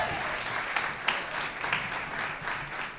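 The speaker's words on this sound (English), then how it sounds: "Let's give her a round of applause." Continuous applause from a crowd at a Seattle mayoral event for a city food action plan, a short, even wash of many hands clapping throughout.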